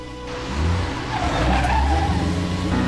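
A car speeds away with tires skidding, a short close screech over a surging engine that swells and holds for a few seconds, with no voices.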